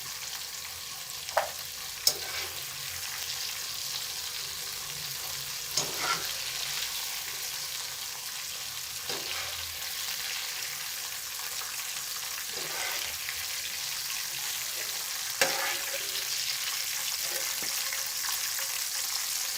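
Chicken sizzles and fries steadily in an oil-filled pan, with occasional clinks of stirring against the pan. No one talks.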